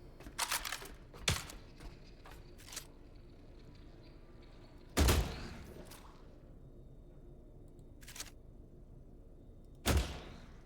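A rifle reload in The Last Caretaker, heard as several sharp, isolated mechanical clacks and slams spaced seconds apart, loud and close against a quiet background.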